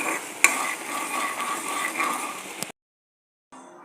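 A spoon stirs and scrapes ginger paste through bubbling, sizzling sugar syrup in a pan for a few seconds, then goes silent briefly before faint sound resumes.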